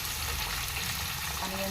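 Sprouted peas tipped into a frying pan bring a brief, fairly quiet sizzle and crackle of hot oil, with faint voice-like tones coming in toward the end.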